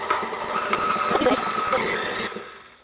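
An electric hand mixer or stand mixer whirs through banana bread batter with sugar, a steady mid-level motor drone with faint rattles that fades out at the end.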